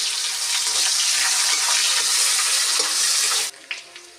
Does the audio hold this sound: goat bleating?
no